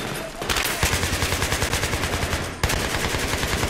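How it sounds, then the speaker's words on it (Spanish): Rapid, continuous automatic gunfire rattles loud and close in a Battlefield 3 campaign mission, a steady rhythmic stream of shots that barely pauses across the whole stretch. "¿Dónde están disparando?"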